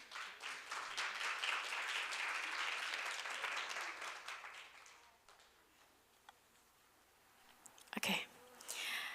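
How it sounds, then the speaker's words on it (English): Conference audience applauding a speaker as she is welcomed to the stage, steady clapping that thins out midway, followed by a few faint rustles and a brief louder knock near the end. "let's welcome her with a big round of applause"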